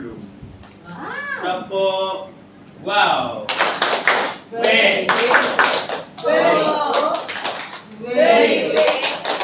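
A group claps along in a classroom 'tepuk wow' hand-clapping chant, sharp bursts of claps landing in rhythm between loud chanted and spoken voices.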